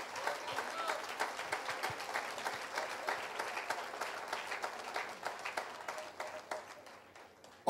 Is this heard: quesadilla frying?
no